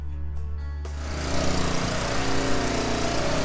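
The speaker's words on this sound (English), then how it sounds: "I'm going to get the pressure washer going because I'm losing the sun." A gas pressure washer engine starts and runs, a steady close mechanical drone that gets louder and rougher partway through, with no talking.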